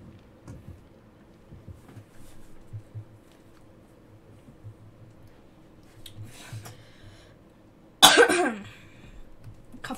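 A single loud, harsh cough bursts out close to the microphone near the end, after a stretch of quiet room noise with soft shuffling.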